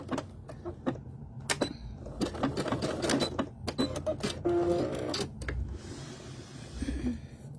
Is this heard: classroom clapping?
no